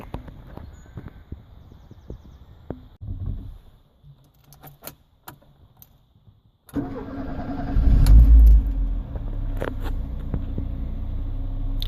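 A Mk4 Ford Escort engine cranks and fires up after some quiet handling noises, then settles into a steady, close idle with a brief rev surge, running smoothly with no talk.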